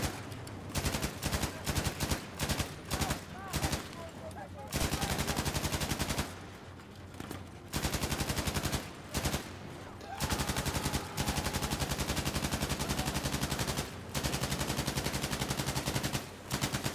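Battlefield V campaign gunfire: loud, close bursts of rapid automatic fire and repeated shots in clusters, broken by short pauses, continuing for the whole stretch.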